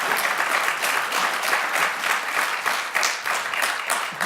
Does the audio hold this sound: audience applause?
yes